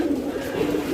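Pigeons coo steadily while feeding after being given food, a close, low, continuous throaty warble with overlapping voices and no clear talk.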